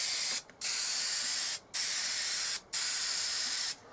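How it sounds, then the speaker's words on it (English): A home-made airbrush compressor sprays a wide pattern onto a piece of wood in loud steady hissing bursts, about one second each, with three short breaks between them. "Now apparently I can do wide spray like that."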